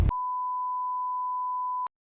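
A steady, loud, pure electronic censor beep is added in editing. It holds for almost two seconds alone after a brief clipped burst of voice.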